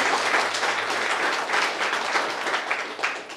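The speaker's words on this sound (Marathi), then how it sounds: "किरण सोनार यांच्यासाठी आपण पुन्हा एकदा जोरदार टाळ्या देऊ" An audience at a Marathi poetry recital claps heartily, a dense, sustained round of applause that stays loud throughout, with slight swells and no voices over it.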